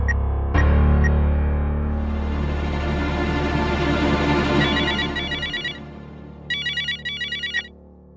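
A telephone ringtone plays loudly and close, a sustained melodic tune followed by a few bursts of a rapid electronic trill near the end.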